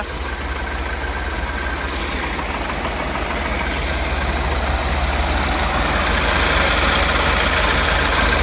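Farm machine engine running during wheat sowing, a loud, close, steady idle rumble that holds unchanged throughout, with no voices.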